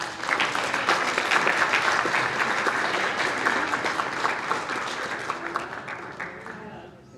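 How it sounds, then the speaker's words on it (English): City council meeting audience giving a round of applause, a loud, dense burst of clapping that holds steady for several seconds and then dies away, with a voice briefly audible underneath. "let's give him a round of applause"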